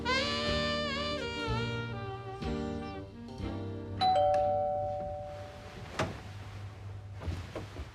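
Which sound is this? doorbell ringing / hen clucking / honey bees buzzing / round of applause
doorbell ringing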